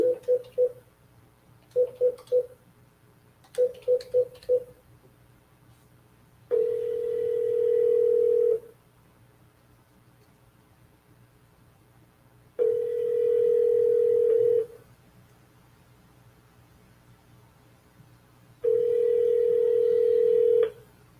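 Telephone tones on a call being forwarded to voicemail: three quick clusters of short dial beeps, then three long steady tones separated by silent gaps. Clear, with no voices.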